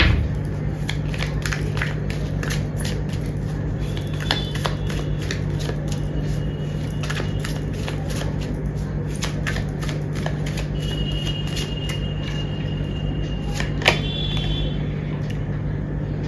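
Tarot cards shuffled and handled at close range, soft repeated riffles and flicks of card stock over a steady low background hum, with no talk.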